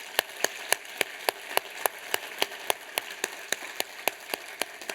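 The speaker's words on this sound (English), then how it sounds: "Just one last round of applause" Applause from an awards ceremony audience at a business hall of fame event, heard as a thin, regular series of sharp claps, evenly spaced and moderately distant, with no talking.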